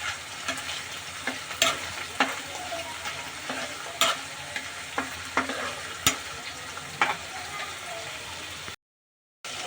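Spices and chopped tomato sizzling and frying in a pan for chicken curry, with a utensil stirring and scraping at intervals; steady crackling sizzle close up, briefly cutting out near the end.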